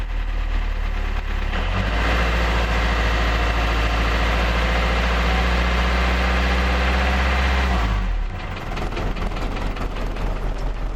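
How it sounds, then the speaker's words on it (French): An Iveco Daily 35-8 diesel van with a SOFIM 8140 engine idles after starting, a loud, steady rumbling drone that runs unbroken for about eight seconds and then eases slightly lower. "il démarre vraiment bien une fois qu'il a démarré, au moins un coup"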